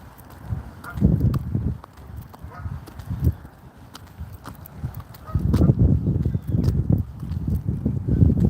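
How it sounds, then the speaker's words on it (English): Geese honking in a park car park on a chilly winter morning, repeated loud calls in bursts mixed with footsteps, busiest near the start and again through the second half. "I don't know why all the geese are in the car park."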